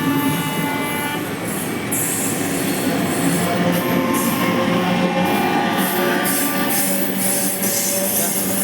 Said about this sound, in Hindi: अभी ट्रेन जाते देखो।